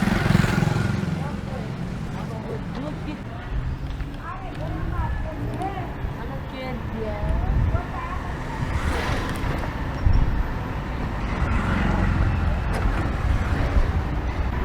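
Riding an old motorbike converted to electric power along a busy local road, with steady traffic rumble, passing vehicles and a faint honk, while someone talks over the ride.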